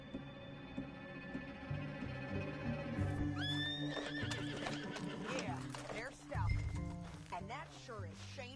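Horse in Red Dead Redemption 2 on PS5, a neigh and whinny with clip-clop hooves and shifting game sounds, moderately loud with a layered music-like backdrop throughout.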